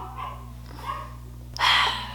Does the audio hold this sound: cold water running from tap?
no